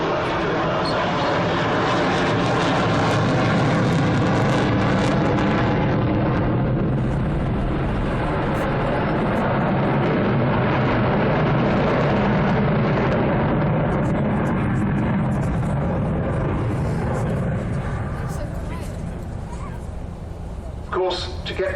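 A loud, sustained jet engine roar from an Avro Vulcan bomber at an air show fills the whole stretch, steady and powerful like a large aircraft passing or running nearby, slowly easing toward the end.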